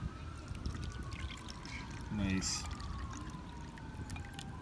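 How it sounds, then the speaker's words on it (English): Squanch Fijian Waka beer pours from an awkward vessel into a glass, a soft trickling stream with a brief gurgling splash midway, while a voice speaks briefly. "Here's what it looks like on the pour."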